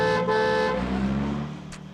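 A car horn blares in a loud, sustained honk, then cuts off, leaving the low rumble of a vehicle engine fading away.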